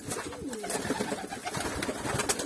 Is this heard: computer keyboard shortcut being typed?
no